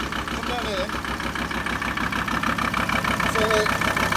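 A 2.5 TDI ACV diesel engine idles unevenly on four cylinders with a steady, slightly lumpy knock, close by, while a person talks over it.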